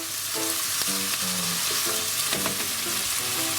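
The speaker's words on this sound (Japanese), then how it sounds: "炒めていきます" Eggs stir-frying in a pan until lightly browned, a dense continuous sizzle with clinking and scraping strokes of a utensil against the pan in an irregular rhythm, close and clear, no voices.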